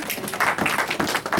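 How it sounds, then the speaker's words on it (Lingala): A church congregation breaks into applause during a French-language service, a short burst of many hands clapping, loud and close, with uneven bursts of claps. "On acclame pour la parole."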